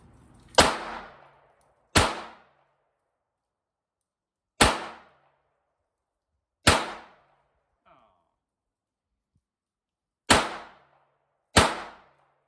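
Six sharp gunshots from a Smith & Wesson Model 34-1 .22 revolver ring out at an outdoor range, spaced irregularly over about twelve seconds, each a loud crack with a short decaying tail.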